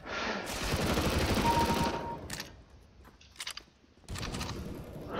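Rapid automatic bursts of MP47 gunfire in Counter-Strike: Global Offensive, one long loud volley followed by a quieter gap with a short burst, then firing resuming loudly at the end.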